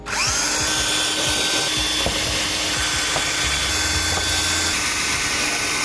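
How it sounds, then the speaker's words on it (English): A power drill bores holes into the front splitter of a BMW F83 M4, with a steady loud whine running throughout and no talk. "We just finished drilling the 5 holes."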